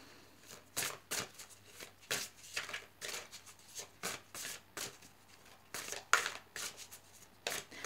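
Tarot cards are shuffled in a run of crisp riffling bursts, about a dozen short flutters at an uneven rhythm, close and fairly quiet with no talking.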